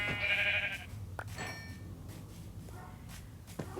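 Sheep in the video game Minecraft give a clear bleat at the start, followed by a few faint clicks and soft game noises; no talking is heard.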